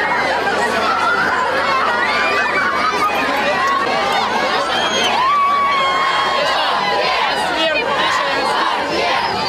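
A dense crowd of young fans shouts, shrieks and whoops around a TikToker at a packed fan meetup, loud and continuous throughout, with overlapping excited voices and cheers.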